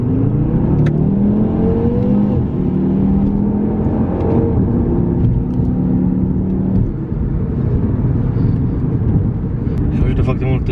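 An Audi RS3 of about 400 hp with all-wheel drive pulls hard under acceleration, its engine revving loudly and steadily with rising, shifting tones throughout, while people talk over it inside the car.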